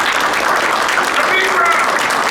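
An audience applauding a speaker on stage, a dense, loud, continuous wash of clapping that holds steady through the brief moment, with a voice faintly audible over it.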